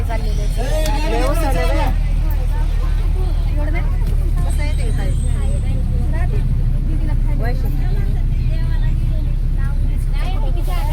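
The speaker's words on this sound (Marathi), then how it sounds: "गाडी सुरू झालेली" A vehicle carrying pilgrims on an Ashtavinayak temple tour hums along with a steady low engine drone, while passengers chat and call out over it throughout.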